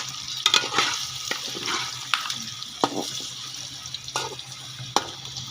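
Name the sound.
potatoes frying in a pan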